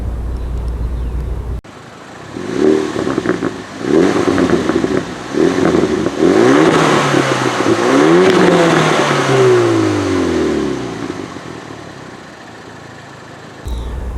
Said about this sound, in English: if you're wondering what the revs from this car sound like